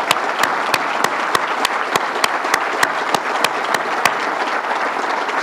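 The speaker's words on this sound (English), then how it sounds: "a round of applause." A room full of audience members claps steadily through a round of applause for a retiring state employee at a government event, with sharp hand slaps dense and continuous throughout, no voices heard over it.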